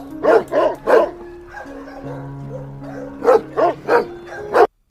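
A dog barks close and loud in two quick bursts of three and four sharp barks, with a low sustained tone under the pause between them.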